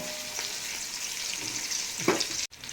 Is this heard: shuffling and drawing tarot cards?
no